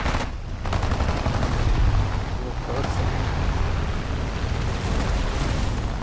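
Aircraft cannon fire in the War Thunder air arcade combat game roars as a dense, sustained burst of loud gunfire over engine noise, continuous throughout with no gaps.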